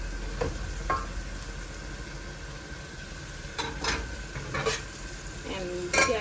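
Carrots frying and being stirred in a pot for a coconut bean stew, with a steady sizzle and several short scraping stirs of the spoon, close and fairly quiet, no talking.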